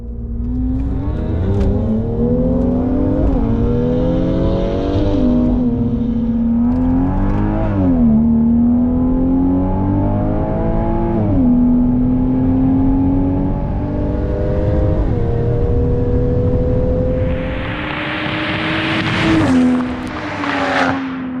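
A tuned Volvo V60 T6 and a stage 1 Mercedes-Benz C43 AMG accelerate hard side by side from a 40 km/h rolling start, engines roaring loud and close through rising gear pulls with brief dips at each shift.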